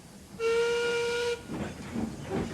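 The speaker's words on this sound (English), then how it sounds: "Duncan stormed in and let out steam crossly." Steam engine releasing a sharp whistling hiss for about a second, followed by softer puffing and hissing bursts, in a railway audio drama.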